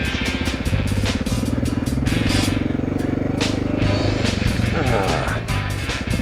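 Motorcycle engines run along a motorcycles-only off-road trail loop at Parker Flat, a steady droning growl with shifting pitch, accompanied by people talking.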